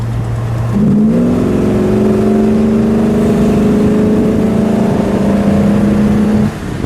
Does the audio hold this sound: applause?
no